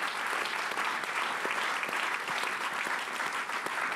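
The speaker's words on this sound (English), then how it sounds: "I can see some clapping about to happen." Sustained applause from a conference audience, dense and even, filling the whole stretch without pause.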